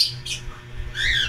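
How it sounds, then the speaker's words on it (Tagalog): A bird, caught and held for a check of its injury, gives two or three harsh, close squawks in quick succession, with some handling noise beneath. "hinuli ho natin yung ibon"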